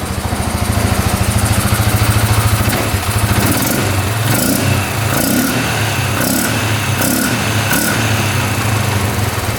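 Close by, an ATV engine idles, then is blipped several times in quick succession, each rev rising sharply before dropping straight back to a steady idle.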